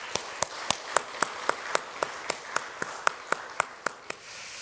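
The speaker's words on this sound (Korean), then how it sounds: "이 일에 헌신하고 수고하고 애쓴 우리 일여전도 회원들을 위해서 박수를 한번 격려하겠습니다" A church congregation clapping together in a steady, even beat, about seventeen crisp claps a little over a quarter second apart, moderately close, with no talk over them.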